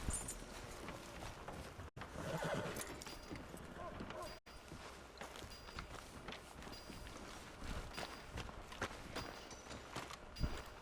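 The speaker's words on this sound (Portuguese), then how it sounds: "Ah, esse é o cavalo do John." Horse hooves clip-clopping at a steady walking rhythm in the Red Dead Redemption II video game, moderately near and mixed with game ambience and faint voices.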